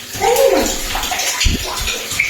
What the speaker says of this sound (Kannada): ನೀರು ನೋಡಿ ಗೈಸ್, 365 ದಿನ ಕೂಡ ನೀರು ಬರ್ತದೆ.